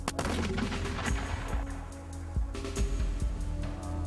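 Artillery guns fire during a competitive shooting event, a series of booming blasts with dense rumbling reports layered over a continuous loud low roar, fairly close.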